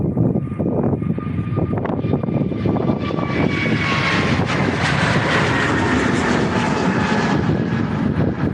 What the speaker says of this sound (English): Beautiful Transavia A321 takeoff.